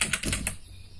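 Keys clatter on a computer keyboard while Arduino code is typed, a quick run of close, crisp clicks that thins out and stops partway through the second, leaving only faint room noise.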